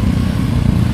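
Motorcycle engines rumble loudly and steadily at close range, a dense low drone with no voices over it, as riders pass by on a roadside stop.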